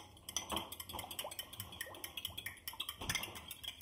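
Beaten egg is whisked into milk in a bowl, with quiet, rapid rhythmic clinks and taps of a utensil against the dish, close and faint.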